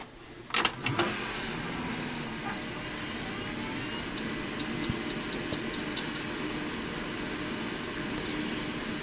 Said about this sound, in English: we're going to start this system up and see how this thing runs